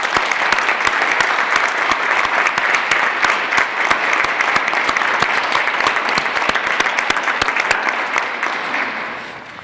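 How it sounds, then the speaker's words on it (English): A Veterans Day ceremony crowd claps loudly and steadily for nearly ten seconds, dense overlapping hand claps that hold an even level before tapering at the very end. "I'd like to take a moment and ask for a round of applause for everybody who makes this possible"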